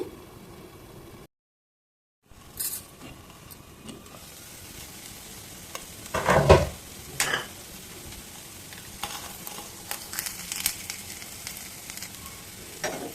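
Dibba rotti batter cooks in a pan with a steady, soft sizzle, broken by a few louder scraping stirs midway and near the end; no one speaks.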